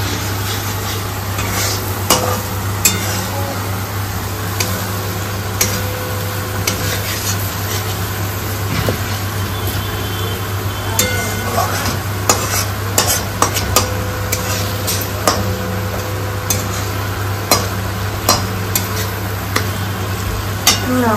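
Spices sautéing in a pan for chital fish curry, a continuous low sizzle with frequent clinks and scrapes of a spatula against metal, plus a steady background hum.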